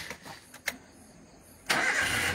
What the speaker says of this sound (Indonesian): coba kita matikan lagi, apakah masih bisa nyala atau enggak